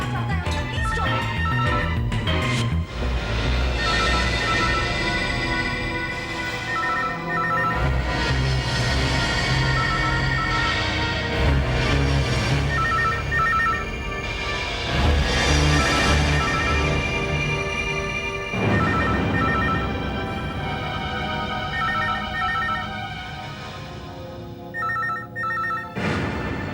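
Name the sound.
telephone ringing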